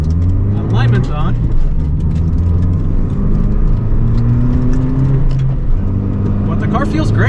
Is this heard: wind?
no